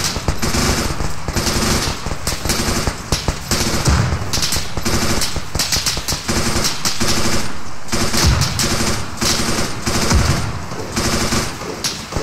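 A heavy machine gun in the military shooter ArmA fires continuously, with dense, loud, rapid bursts that keep going for the whole stretch and no pauses in between.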